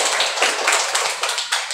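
Children clap together in a classroom, a quick run of uneven, close hand claps with no one speaking.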